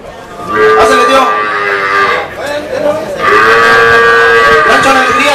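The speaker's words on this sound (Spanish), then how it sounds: "Rancho La Alegría también presenta su vaca La Tortuga" Dairy cows low repeatedly at a milking-cow competition during a coffee fair in Atoyac, two long loud moos close by with a shorter call between, crowd noise underneath.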